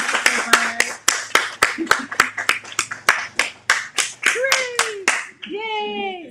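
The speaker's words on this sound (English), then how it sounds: "a big round of applause for Enid Baxter Ryce." Several people clap in a steady, rhythmic pattern for an author at a book talk on a tarot deck, each clap sharp and distinct, with brief voices and cheering near the end.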